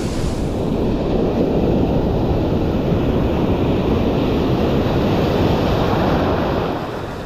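Ocean surf pounds continuously during a typhoon on the La Union coast, a loud, dense roar of crashing waves mixed with strong wind buffeting the microphone, with no voices.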